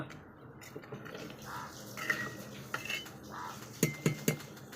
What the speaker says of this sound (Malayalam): നമ്മുടെ മാമ്പഴ പുളിശ്ശേരി ഇളക്കാം കേട്ടോ അച്ഛമ്മ